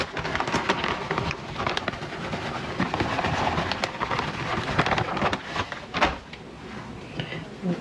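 Laundry powder bombs being crushed into dish soap suds: dense crackling, crunching and fizzing, with sharp pops and squelches, close and continuous for several seconds.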